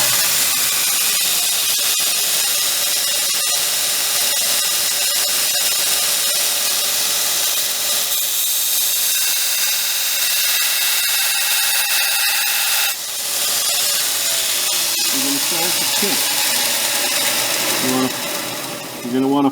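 Belt grinder steadily grinding the bevel of a tanto knife, a loud continuous abrasive hiss with a whirring belt, held close throughout, shifting slightly in pitch near the end as the blade is moved.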